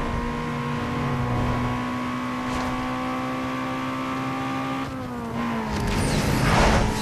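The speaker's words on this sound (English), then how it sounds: "Passing cars is really loud." Traffic cars in Need for Speed Underground 2 whoosh past during a race, a sustained engine hum building into a loud rush near the end, with no voices.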